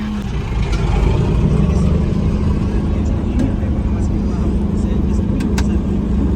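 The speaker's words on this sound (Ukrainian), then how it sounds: "Так, запустимо машину." A 1998 Claas Dominator 48 spezial combine harvester with a 3.6 m header runs its engine after starting. It gives a loud, steady, close-up drone with a constant low hum and occasional faint clicks, and there is no clear cranking burst.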